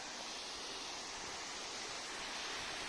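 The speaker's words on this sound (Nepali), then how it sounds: "महावीर झरना" Mahabir waterfall in Kavre, Nepal rushes in a steady, dense roar of falling water, continuous and close, with no voices over it.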